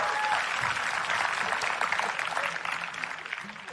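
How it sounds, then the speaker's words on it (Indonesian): A live crowd claps steadily at a magic show, dense continuous applause that fades slightly toward the end, with faint voices mixed in. "Tepuk tangan sekali lagi dong untuk Kak Ucup."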